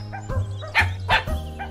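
A cartoonish dog from the video game Be Dog Do Borks gives a few short, bright yips and barks in quick succession, close and clear.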